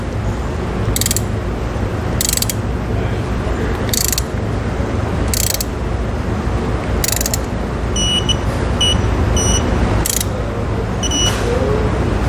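A ratcheting wrench clicks in repeated short bursts while a Kodiak disc brake hub is tightened on a 2021 Vanleigh Beacon fifth wheel axle, over a steady background hum.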